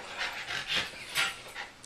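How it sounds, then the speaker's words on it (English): Quiet, breathy dog panting close by, a few rapid puffs rising and falling in short bursts while dogs meet, with no talk over it. "She don't know these dogs."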